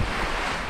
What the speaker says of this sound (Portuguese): E temos esta praia incrível só para nós.